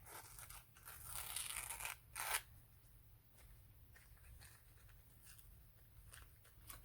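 A paper napkin torn by hand for an art journal, with a couple of short, crisp rips close by and quieter rustling of paper afterward.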